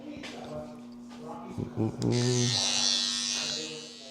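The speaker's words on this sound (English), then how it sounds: "So I'm just get the trimmer and go over and line up the beard." An electric trimmer buzzes steadily while lining up a beard during a barber's medium bald fade cut on a short crop, with someone talking over the hum at close range.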